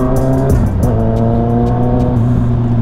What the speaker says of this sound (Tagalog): gusto ko na rin iparinig sa inyo yung tunog ng ating Guanzi nung siya ay nakatambucho